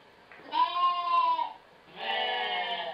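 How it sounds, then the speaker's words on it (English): Ewes bleating together outdoors as they call their lambs, two loud, drawn-out wavering cries in quick succession, close by. "Those outside in unison were the mother group calling the baby sheep."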